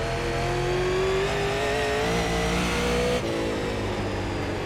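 A Super Late Model race car engine in iRacing at South Boston Speedway revs hard and continuously up close, its pitch climbing steadily before a brief dip and recovery, with no talk.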